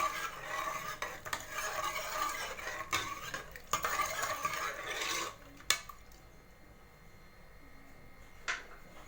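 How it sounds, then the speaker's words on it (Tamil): A ladle stirs lentils and tomato in a pot for kadaiyal, with scraping swirls and sharp metal clinks against the vessel for about five seconds, then quieter with a couple of isolated taps. "ஒரு கரண்டி வச்சு நல்லா மிக்ஸ் பண்ணி விட்டுருங்க."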